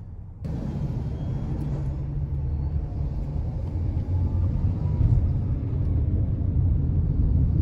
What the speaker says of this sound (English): So here it is bringing the vehicle to a complete stop.